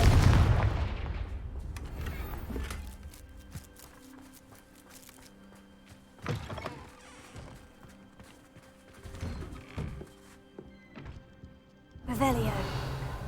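Confringo blasting spells in Hogwarts Legacy, a voice casting then a burst of blasts, followed by scattered sharp impacts and thumps over a quiet hum, with talk in between and a final louder hit.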